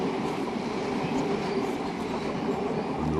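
Train rolling past on a faulty, mud-fouled track in Australia with speed restrictions, a steady loud rumble and rattle lasting a few seconds with no clear talk.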